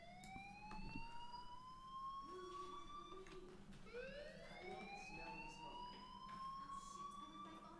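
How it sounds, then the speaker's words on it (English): A fire alarm rings inside the Life is Strange video game, its rising electronic tones sweeping up again and again over a steady low hum, loud and continuous with no talking. "Hey, do you hear that fire alarm?"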